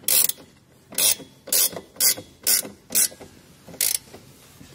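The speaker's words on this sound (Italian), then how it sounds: "Per poi tirarlo di dinamometro." A torque wrench tightening a bolt on Tein adjustable suspension for a Mazda MX5 ND: about seven distinct ratcheting clicks in a steady, evenly spaced rhythm, close and clear with no talking.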